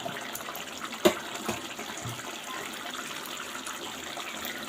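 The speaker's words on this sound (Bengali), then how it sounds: "এখন আমি ঝোলের জন্য পানি দিয়ে দেব।" Water is poured into a simmering rohu fish curry with potato, onion and tomato to make the broth, a soft low splashing and gushing with one brief louder splash near the start.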